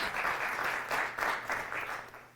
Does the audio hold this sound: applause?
yes